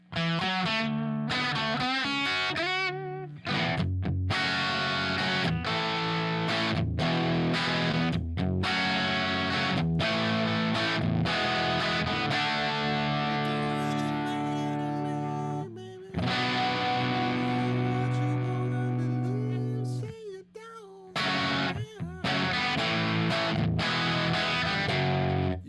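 Les Paul Jr. electric guitar played through a distortion effect, dense sustained chords and riffs ringing loud and continuous with a few brief pauses, no talking.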